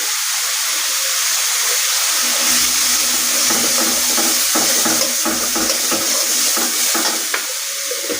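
Tomato paste with turmeric powder fried and stirred in a pan for a bitter gourd and potato curry with mustard paste, giving a steady close sizzle broken by repeated scraping strokes of a spoon, with no talking.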